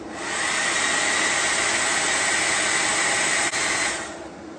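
A heat gun blows steadily onto the BMS temperature sensor of a WattCycle 12V 314Ah mini LiFePO4 lithium battery, a loud even hiss-like roar that rises, holds for about four seconds with a momentary dip, then fades.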